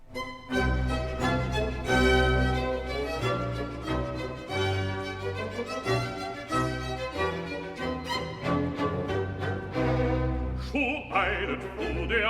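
An operatic aria sung in German over an orchestra, from Haydn, with a steady rhythmic bass pulse beneath the sustained vocal line.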